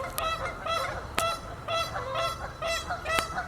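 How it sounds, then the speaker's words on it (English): Several Canada geese honk repeatedly and raucously at a moderate distance, overlapping calls in a loose, uneven rhythm. "There's a flock of Canadian geese who are just yelling like crazy over there."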